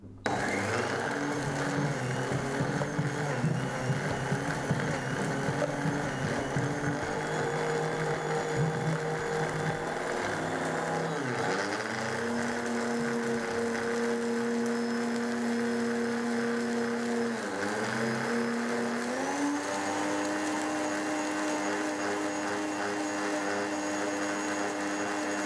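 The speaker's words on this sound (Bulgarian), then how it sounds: "Пускам блендера." A blender grinds dried nettle leaves into powder. Its motor whines loudly and steadily, with pitch dips and shifts as the load changes, and runs nonstop throughout.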